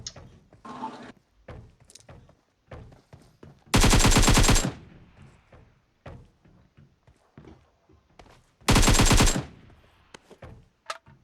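Two loud, dense bursts of automatic gunfire from PUBG Mobile rattle out close by, each lasting about a second, separated by quieter clicks, footsteps and thuds of gameplay.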